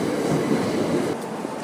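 A Southern train rolls along the platform at Redhill station, a steady broadband rumble of wheels and carriages that holds loud throughout the short stretch, with no voices.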